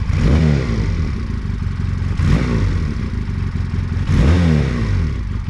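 A classic motorcycle engine revs through an aftermarket exhaust tail, three loud throttle blips roughly two seconds apart, each rising and falling over a deep, throaty idle rumble with a raspy, wide-ranging tone.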